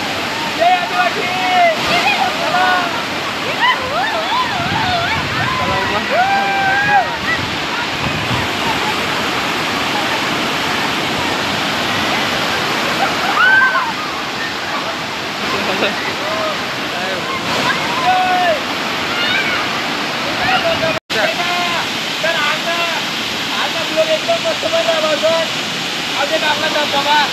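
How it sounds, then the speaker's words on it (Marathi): Nava Devi waterfall near Shirpur, Dhule, rushes in a loud, constant roar of falling water with wind gusts, while people talk and call out over it throughout and the sound cuts out briefly near the end. "आपला धबधबा नवादेवी माता ना"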